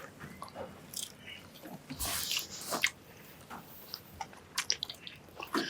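People biting into and chewing South African boerewors sausage, soft close-up wet chews and crunches in irregular bursts at low volume.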